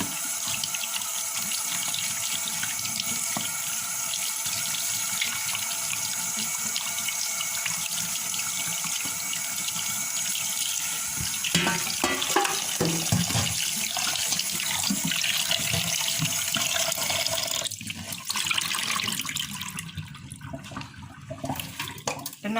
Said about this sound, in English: just under some running water